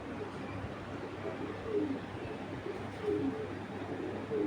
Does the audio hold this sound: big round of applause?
no